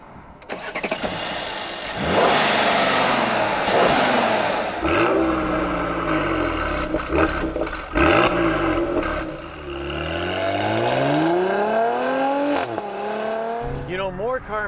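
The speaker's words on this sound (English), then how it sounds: "right now I'm driving the GLE 450 AMG with the twin turbo V6" A powerful twin-turbo V6 engine in a 2016 Mercedes-Benz GLE 450 AMG Coupe SUV revs hard through several gears, pitch climbing and dropping at each shift, with someone talking over it.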